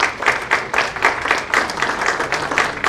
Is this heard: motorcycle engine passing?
no